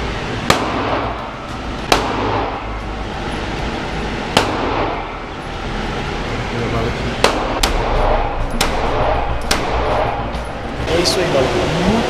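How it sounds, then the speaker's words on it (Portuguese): Several sharp pistol and rifle gunshots crack out at uneven intervals at a shooting range, loud and close, over steady background noise and low rumble, with a voice speaking faintly in between. "esse aqui é o tiro da pistola e esse aqui é o tiro do fuzil"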